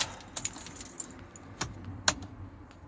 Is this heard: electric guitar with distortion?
no